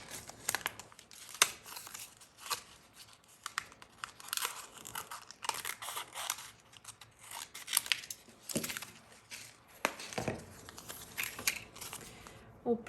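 Transfer tape for a vinyl decal being cut, handled and peeled from its backing, giving close, irregular crinkling, snipping and tearing bursts with short pauses between.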